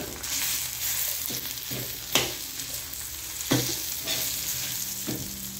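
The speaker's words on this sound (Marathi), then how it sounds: "म्हणजे कांदा पण छान असा तेलामध्ये भाजला जातो" Onions fry in hot oil in a pan for a spicy dubuk vada masala, a steady close sizzle with periodic stirring scrapes and soft clatters over about six seconds, no voices.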